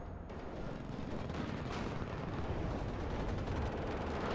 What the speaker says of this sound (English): Machine guns and lots of fire coming in on these guys.